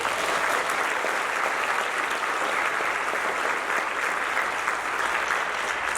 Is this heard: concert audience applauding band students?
yes